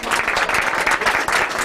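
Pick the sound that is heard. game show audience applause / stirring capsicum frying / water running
game show audience applause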